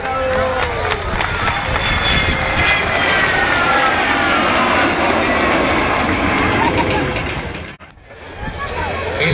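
An Argentine Air Force F-28 airliner's jet engines roar at an air show, a loud, sustained rushing howl that swells and holds, briefly dips near the end, then surges back, with crowd or announcer voices faintly mixed beneath.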